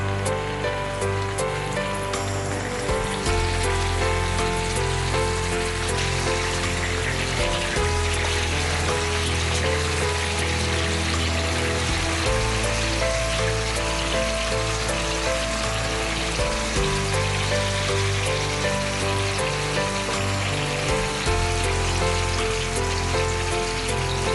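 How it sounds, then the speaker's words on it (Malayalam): Marinated chicken pieces sizzle steadily in hot oil, a dense continuous crackle and hiss close by that holds for the whole stretch, with low bubbling underneath and no voices. "ചിക്കൻ്റെ കഷ്ണങ്ങൾ പകുതി എടുത്തിങ്ങനെ എണ്ണയിൽ നിരത്തി വെച്ചു."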